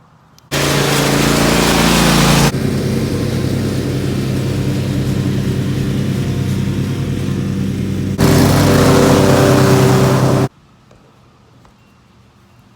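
Simplicity Regent riding lawn mower, a 2021 model, mowing and bagging a cool season lawn at 1.75 inches, with a steady close engine drone that swells louder at the start and again near the end, then cuts off abruptly.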